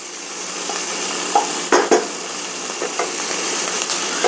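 Zucchini and other vegetables sauté in a pan for a ground beef zucchini bake, a steady sizzle close by with a few utensil scrapes and stirring knocks.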